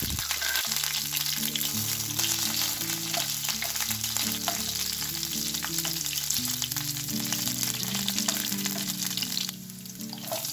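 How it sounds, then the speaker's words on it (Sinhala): Chopped garlic and curry leaves fry in hot oil for a vegetable roti filling, a steady dense sizzle running close and loud throughout, with faint background music tones underneath. "තෙල් ටික රත් වෙද්දී කපාගත්ත සුදු ලූණු ටික එකතු කරගන්නවා. කරපිංචාත් එකතු කරලා ඔක්කොම කලවම් කරගන්නවා."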